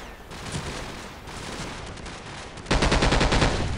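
Machine gun fire in the video game Call of Duty 4 Modern Warfare, rapid bursts that swell into a loud, dense rattle of rounds near the end, with no talking over it.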